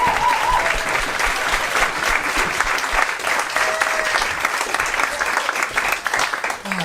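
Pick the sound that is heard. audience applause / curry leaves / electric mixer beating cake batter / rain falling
audience applause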